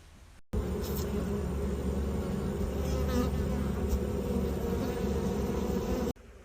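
Dense, steady buzzing of many honeybees close by around a hive, a continuous drone that starts and stops abruptly.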